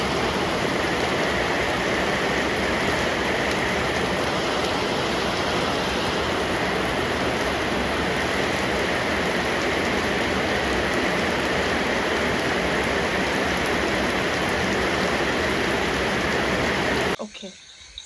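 Rain falls steadily in a village and keeps up a constant even hiss for the whole stretch before cutting off abruptly at the very end.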